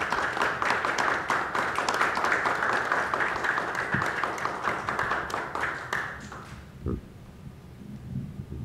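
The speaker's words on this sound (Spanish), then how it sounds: "les pedimos un fuerte aplauso para la firma del convenio" Sustained applause and clapping from a gathering at the signing of a basketball cooperation agreement, a dense steady patter that fades out near the end, followed by a few faint knocks.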